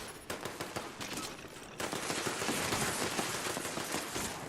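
Enemies open fire on the player in Fallout 76, a dense, continuous rattle of gunfire that thickens after the first couple of seconds and keeps going steadily to the end, with no talking.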